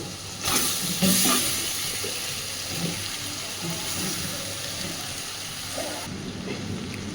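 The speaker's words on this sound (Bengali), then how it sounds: "তো এইবার এর মধ্যে আমি ভাতটা দিয়ে দিচ্ছি।" Leftover rice hits a hot pan and fries with a steady moderate hiss, a brief louder burst of sizzling as it goes in, then continuous crackling with light scraping, no voices.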